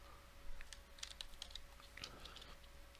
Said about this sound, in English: we'll type in Matthew